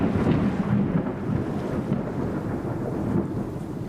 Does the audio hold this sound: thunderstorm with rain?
yes